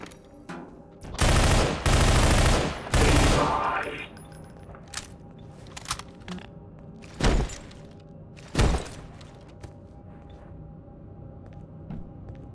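Bursts of automatic gunfire from the video game Entropy: Zero, a dense close barrage for a few seconds followed by scattered single shots and thuds further off.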